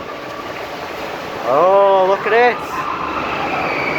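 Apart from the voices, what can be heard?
mine train ride running over the river rapids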